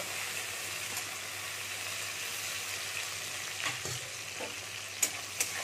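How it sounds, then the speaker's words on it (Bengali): Chopped onions with cumin fry in a pan for a Bengali fish curry, making a soft, even sizzle with a few light stirring clicks near the end. "পেঁয়াজটাকে এবার একটু ভেজে নেব"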